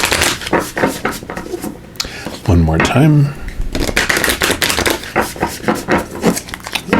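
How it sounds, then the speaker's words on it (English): Rapid papery riffling of tarot cards being shuffled, in repeated bursts, with a person speaking briefly in the middle. "So we'll give these a good shuffle"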